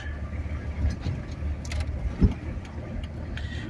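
Car driving along, a steady low engine and road rumble with a soft ticking and one brief thump partway through, continuous and fairly close, no one speaking.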